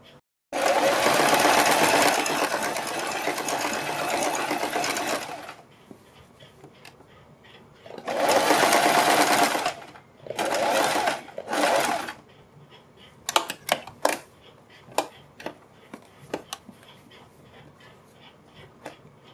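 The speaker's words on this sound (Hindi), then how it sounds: "यहाँ से हम इसमें इस तरह से थोड़ी सी सीधी सिलाई लगाएंगे" An electric sewing machine runs a short straight seam on a high neck collar, with one long whirring run, then two shorter bursts, followed by scattered clicks and taps of handling.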